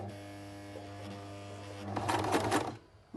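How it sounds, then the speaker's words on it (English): A sewing machine stitching the top of a buttonhole hums with a steady motor whine, then a short burst of rapid needle stitching rattles close by before stopping. "So we're going to stitch the top first. You just make a few stitches at the top."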